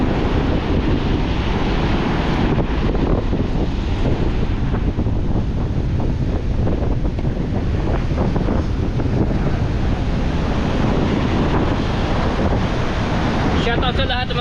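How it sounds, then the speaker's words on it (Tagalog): Big sea waves breaking on a shore, a continuous loud roar of surf mixed with heavy wind buffeting the microphone, with a person talking over it. "Pakalaki ng alon ngayon."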